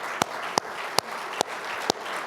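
Steady crowd applause for Mayor Hartwell at a Grand Rapids street renaming ceremony, a continuous wash of clapping with a few sharper individual claps standing out, moderately distant.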